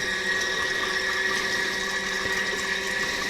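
Mini folding washing machine running with soap and water inside, a steady whirring motor hum with sloshing liquid, faint and continuous with no talking.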